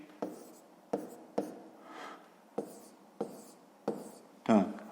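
Pen or pencil strokes writing out a fifth-grade math solution by hand, a run of close, crisp scratchy bursts at a steady uneven rhythm, with no voices.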